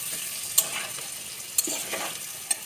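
Salt, turmeric, chili powder, cumin and ginger powder stirred in a pan for soybean curry: a soft sizzle with three sharp utensil clicks against the pan, up close and without talk.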